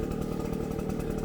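A leaf blower's small engine runs steadily and loudly during homestead barn cleaning, a continuous droning roar with no pauses and no voices.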